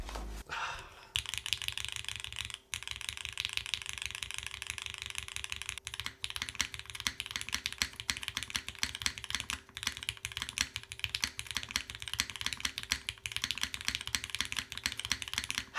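Close, steady clacking of typing on a Babylon custom mechanical keyboard, a dense run of keystrokes with no voices.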